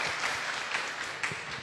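A short burst of clapping from a crowd at a religious talk, steady and moderately loud, with slight swells in intensity.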